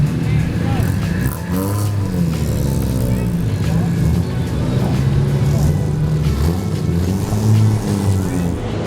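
Race cars rumble past on the first formation lap of a 12-hour endurance race at Sebring International Raceway, a steady engine drone lasting throughout, with talk running over it.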